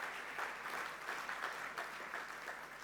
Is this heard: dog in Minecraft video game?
no